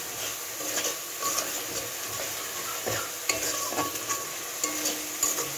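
Spice paste with added salt and sugar stir-fried in a pan, a continuous sizzle broken by repeated scraping and tapping strokes of a spatula against the pan, close and fairly quiet, with no voices.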